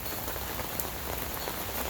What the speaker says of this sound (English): you can hear the rain coming down here.